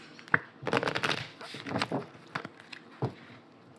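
A deck of oracle cards is cut and shuffled by hand, giving a few quick papery riffles and soft slaps close up with brief pauses between them, and no voices.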